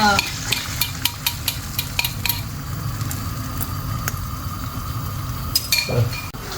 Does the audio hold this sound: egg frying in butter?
yes